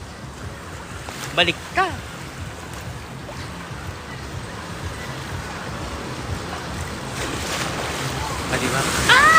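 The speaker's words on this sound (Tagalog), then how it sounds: "Ngayon nag-low tide. Aba, ang hangin naman." Wind buffets across Boracay beach at low tide while ocean waves wash in a steady roar, with a couple of brief louder thumps and a short spoken phrase amid the gusty noise.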